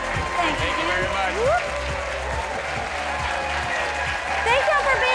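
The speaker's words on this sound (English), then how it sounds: "Appreciate the applause." A television studio audience applauds steadily, a dense wash of clapping close by that carries through the whole stretch, with a host's voice talking over it.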